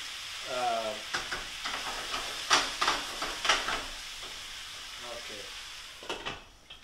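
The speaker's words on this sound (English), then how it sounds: "when the pan is nice and hot, the meat is gonna just sear it from one side" Pork for braised pork Marsala sears in a hot pan, a steady close sizzle and hiss broken by scraping, spattering bursts, with brief talk over it.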